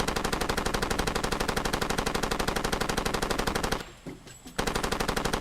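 Sustained automatic gunfire in the video game Far Cry 2, a rapid, evenly spaced rattle of shots that runs loud and unbroken for nearly four seconds, drops out briefly, then resumes.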